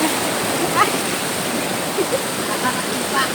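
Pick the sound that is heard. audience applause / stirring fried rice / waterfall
waterfall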